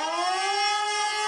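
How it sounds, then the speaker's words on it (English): A steady, loud wailing siren in the street, a single sustained tone with rich harmonics holding nearly level throughout, with no voices over it. "I woke up to the sound of loud sirens blaring in the street."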